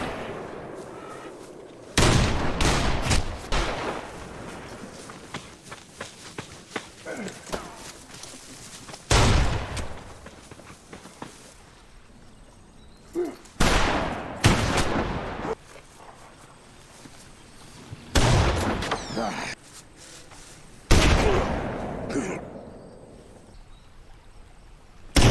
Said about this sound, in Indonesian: pertarungan baku tembak pun berlangsung ke sebuah hutan